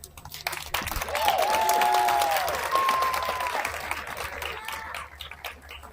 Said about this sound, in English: give a moment of applause for them